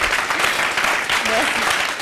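A studio audience applauds steadily on a television show, dense clapping filling the whole stretch with a voice briefly audible over it.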